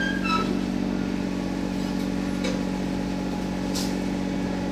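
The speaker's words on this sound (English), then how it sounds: "So I'm just using my tractor to push that trailer under the boat." A tractor engine running steadily while pushing a trailer under a heavy steel sailboat, a constant low rumbling drone with no clear revving, fairly close and with no one talking.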